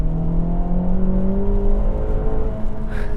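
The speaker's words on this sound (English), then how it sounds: "Getting on power with the VTEC motor." A 2024 Acura Integra Type S VTEC engine revs under acceleration, its pitch climbing steadily as it pulls, with a droning, rumbling tone heard from inside the car.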